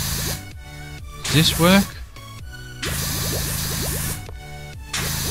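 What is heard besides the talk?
pressure washer spraying wood cleaner in PowerWash Simulator video game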